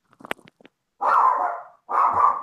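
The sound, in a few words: dog barking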